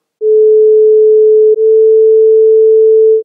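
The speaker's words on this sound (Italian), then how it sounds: "Il primo suono è un La accordato a 432 Hz, il secondo a 440." Two loud, steady pure tones play back to back, each an A note. The first is tuned to 432 Hz and sounds for about a second and a half, then a very slightly higher one at 440 Hz follows, with no other sound.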